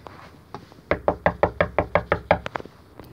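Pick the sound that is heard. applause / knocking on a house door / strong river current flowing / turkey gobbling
knocking on a house door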